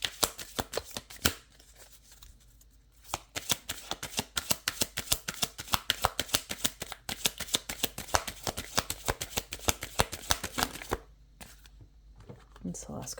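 A deck of cards for a reading is shuffled by hand up close, a long run of rapid riffling clicks and flicks with brief pauses, under a speaking voice.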